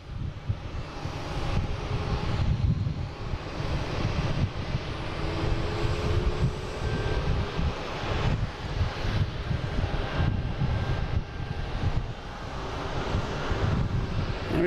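Aircraft engines roar at Boston Logan International Airport, a loud, broad, steady rumble with wind buffeting the microphone and gradual swells as planes move nearby, no talking.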